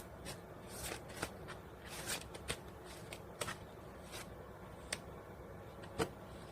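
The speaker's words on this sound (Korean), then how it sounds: "여러분들을 위한 조언 카드 한 장 뽑아보겠습니다" Tarot cards shuffled by hand to draw an advice card: a run of quick, soft riffling and slapping bursts at an uneven rhythm over a quiet room hiss, close by, with no talking.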